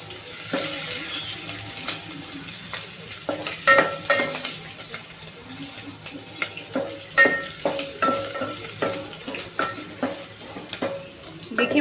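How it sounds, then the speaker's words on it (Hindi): Chopped green chillies and garlic cloves frying in a pan for a mixed dal, with a soft steady sizzle and repeated clicks and scrapes of a stirring spoon, close and moderately quiet, no voices. "हरी मिर्च भी डाल देंगे कटी हुई। अब हम इसे अच्छे से फ्राई कर लेंगे।"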